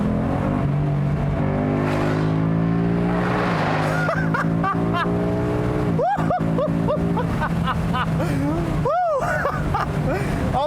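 A 2019 Ford Mustang GT convertible with paddle shifting revs up through the gears, a loud V8 note rising in pitch with each shift and dropping between them, while a voice talks over it.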